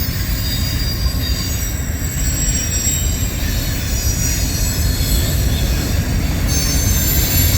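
A CSX mixed freight train accelerates onto the Metropolitan Subdivision: a loud, steady rumble of rolling cars with sustained high wheel squeal, close by and continuous, with no talking.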